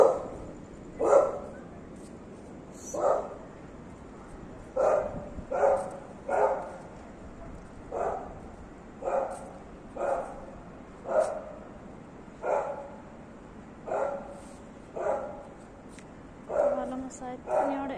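A dog barks repeatedly in regular single woofs at a steady pace over eighteen seconds, moderately near, with occasional yips near the end.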